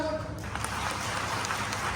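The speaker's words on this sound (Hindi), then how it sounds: "जरा जोरदार ताली लगाए घर वाले" An audience at a live show in Tikamgarh claps, a dense, steady wash of applause from many hands heard from within the crowd, continuing without a break.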